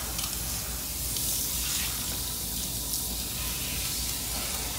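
Water runs steadily in a continuous hiss and splash, like a shower stream pouring over hair, with no voices.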